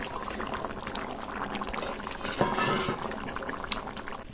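Fish curry with potato and pumpkin stalks bubbles in a pot, a dense continuous boiling and burbling with a small splash midway, close and steady, with faint background voices.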